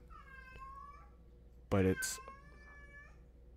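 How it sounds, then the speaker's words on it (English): A domestic cat meows in a few drawn-out, wavering cries at moderate distance, with a brief louder burst of speech cutting in between them over a faint background hum. "I don't know if you hear that, but that's my cat."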